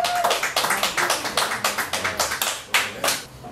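An audience applauds as a poet is called up at a poetry reading in a living-room venue, a brief burst of sharp irregular claps from a small crowd, fairly close.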